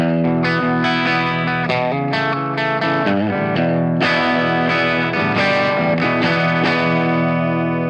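Electric guitar played through the clean normal channel of a loud amp, a continuous run of ringing notes and chords with strong sustain and some effects colouring, steady and close, with no talking.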